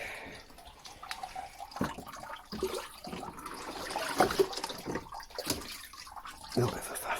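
Water runs steadily into a tank in a pottery studio as a fill from a clay trap setup, a continuous trickling wash with small splashy bursts, and a voice speaks briefly over it.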